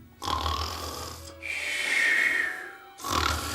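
A voice imitates a sleeping wolf snoring in a children's story: two long, loud rasping snores with a quieter drawn breath between them, close and alone.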